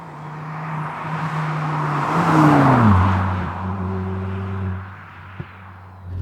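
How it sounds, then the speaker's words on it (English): A Mk4 Ford Mondeo 2.5T with a five-cylinder turbo engine gives a loud, throaty note that builds as the revs climb, then drops back and settles into a steady drone. "throaty 5-cylinder sound accompanying you at all times"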